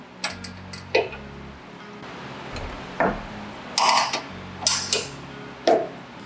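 Bolts on a Dobinsons rear bumper of a 70 Series Land Cruiser Prado being tightened with a 13 wrench, a series of close ratcheting clicks in short bursts with brief pauses between them.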